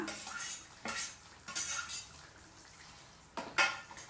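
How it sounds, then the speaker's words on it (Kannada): Fried capsicum and onion stirred in a pan: a spoon scrapes and clinks against the metal in several short bursts, with quiet gaps and a light sizzle between them. "ಇವಾಗ ನಾನು ಫ್ರೈ ಮಾಡಿಟ್ಟಿರುವ ಕ್ಯಾಪ್ಸಿಕಮನ್ನು ಹಾಕೊಳ್ತಾ ಇದ್ದೀನಿ ಈರುಳ್ಳಿ ಕೂಡ ಹಾಕೊಳ್ತಾ ಇದ್ದೀನಿ ಇದನ್ನು ಹಾಕೊಂಡ್ಬಿಟ್ಟು ಸ್ವಲ್ಪ ಮಿಕ್ಸ್ ಮಾಡ್ಕೊಳ್ಳೋಣ"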